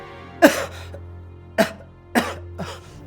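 A man fakes coughing, giving three or four separate forced coughs spaced about a second apart, close and fairly loud over a low steady hum.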